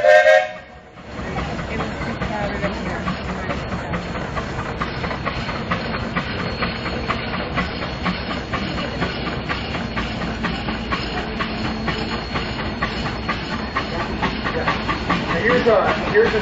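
An Avery steam traction engine with a boiler-on-top style axle runs at the Sycamore, Illinois steam power show, giving a loud, continuous hiss and rhythmic chuffing throughout, with a narrator speaking over it.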